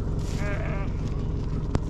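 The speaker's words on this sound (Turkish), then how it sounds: "koyunlar" A sheep bleats once in a quavering cry over a constant low rumble of wind or engine noise, followed by a sharp click.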